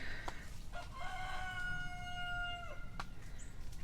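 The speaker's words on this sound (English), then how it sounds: "There you can hear Mr. Bingley, our friendly rooster." A rooster crows loudly and close by, one long drawn-out crow that rises, holds, then drops off sharply at the end.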